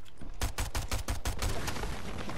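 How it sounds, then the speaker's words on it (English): Rapid automatic gunfire from a Fortnite match, a burst of about nine evenly spaced close shots over roughly a second and a half, loud and sharp, with no talking. "He's shooting at trees"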